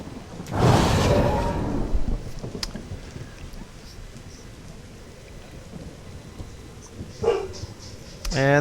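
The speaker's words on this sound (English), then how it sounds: "And the dog's barking." A dog barks a few times during a thunderstorm, with a loud rolling thunder burst early on and steady rain underneath, the barks short and somewhat distant near the end.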